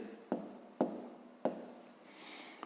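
A pen writes out a math solution on paper, making three distinct scratchy strokes at irregular intervals in a quiet room, followed by a faint soft scribble, with no talking.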